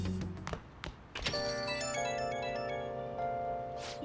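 A mobile phone rings in the Persona 5 Royal video game. After a couple of soft thunks, a bright melodic ringtone starts and repeats steadily, its tonal chime ringing clearly and close for several seconds.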